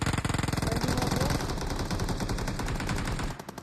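Heavy automatic gunfire in the battle game BGMI: rapid, loud bursts of shots rattle in quick succession, then thin out and stop near the end.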